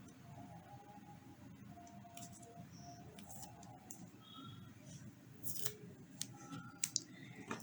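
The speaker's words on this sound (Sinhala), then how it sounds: "ඉස්සරහින්ම හයි ගන්න තව කේබල් කෑල්ලක් කපා ගන්න ඕනේ වෙනවා" Scissors snip through a piece of cable while an Arduino obstacle-avoiding robot is assembled. The cuts are faint, with a few sharp clicks near the end over a quiet background.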